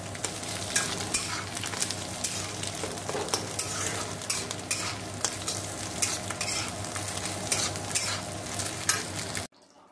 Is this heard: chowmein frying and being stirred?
yes